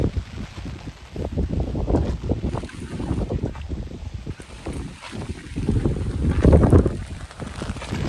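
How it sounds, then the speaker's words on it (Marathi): Heavy rain driven by strong wind in a rural monsoon setting near Chandgad, a loud, roaring, gusty wash of noise buffeting the microphone, surging and easing throughout with no talking. "आता परत येलो बघा जोरात पाऊस. एकदम मस्त पाऊस लागला बघा, डेंजर वारा बिरा सुटला"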